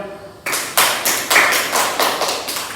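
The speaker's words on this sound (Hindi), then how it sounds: "ताली बजाओ।" Children clap their hands in a quick run of about seven sharp, loud claps, close by and evenly spaced, during a counting lesson.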